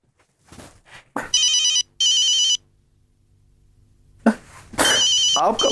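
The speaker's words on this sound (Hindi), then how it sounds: "आपका फोन बज रहा है सर।" A telephone rings loudly in two electronic bursts, then rings again after a pause, with brief speech between the rings.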